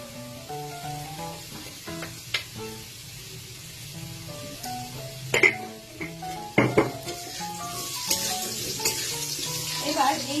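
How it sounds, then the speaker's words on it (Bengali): Potatoes fry with spices in a pan while being stirred for a dhoka dish. A soft, steady sizzle runs under scattered scrapes and clinks of a utensil against the pan, with gentle music playing in the background. "এবার এই যে আলুটা ভাজা হচ্ছে তার সাথে এই মশলাগুলো মিলিয়ে একসাথে দিয়ে"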